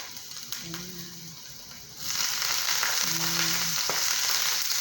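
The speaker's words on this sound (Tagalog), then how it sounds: "Siyempre, mag-isa muna ako ng bawang at sibuyas." Garlic and onion sautéing in a pan at home, a broad continuous frying hiss that steps up sharply in loudness midway, with faint tonal kitchen hums beneath.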